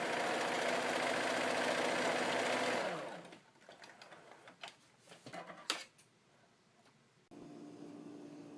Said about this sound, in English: we're going to go sew the waistband